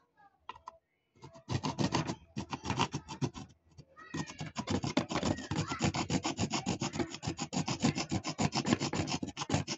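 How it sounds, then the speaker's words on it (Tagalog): A hacksaw cuts a slot into a rusty screw head: quick, close, rhythmic back-and-forth rasping strokes after a short pause, then a brief break and a long steady run of sawing. "Lagyan natin ng kanal. Lagariin natin. So, lagaring bakal naman."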